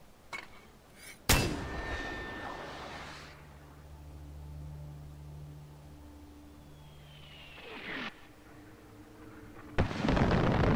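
Several booming blasts from a mortar cannon firing in Far Cry 4, a loud one near the start and another near the end, with a low rumble and a rising whistle between them.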